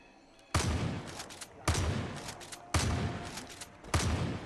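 Shotgun blasts in Far Cry 5: four loud, sharp, booming shots spaced about a second apart, each with a lingering decaying tail, nearby and alone without talk.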